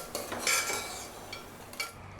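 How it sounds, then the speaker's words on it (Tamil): Crab curry being stirred in a pan, with a few light scraping clinks of a utensil against the metal amid a soft continuous background. "ஒரு தடவை மிக்ஸ் பண்ணி விட்டுடலாம்."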